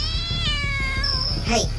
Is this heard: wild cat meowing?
yes